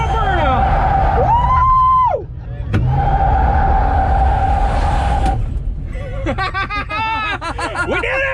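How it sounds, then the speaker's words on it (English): A 1971 Dodge Demon, a barn-find car revived at a car show and swap meet, revs hard through a burnout with loud, sustained engine roar, a brief squeal-like whine, then whoops and laughter from a nearby crowd over the idling motor. "Now will it do a burnout?"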